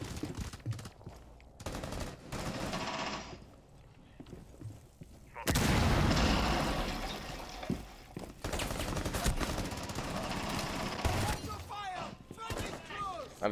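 Sustained bursts of automatic gunfire and explosive blasts in a Rainbow Six Siege multiplayer match, loud and dense, with a brief lull before a heavy sustained barrage; people talk over the shooting.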